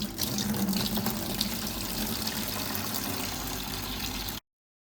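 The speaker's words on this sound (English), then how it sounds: "we're going to rinse this silver off so we can get our pure silver and dry it off" Water runs steadily from a tap over a batch of pure silver being rinsed clean, a continuous close splashing rush that stops abruptly at the end.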